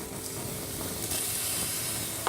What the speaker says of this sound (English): Let's make sure the fire keeps going while it's boiling over like this.